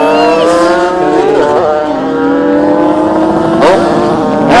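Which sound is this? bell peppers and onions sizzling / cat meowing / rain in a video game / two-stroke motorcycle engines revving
two-stroke motorcycle engines revving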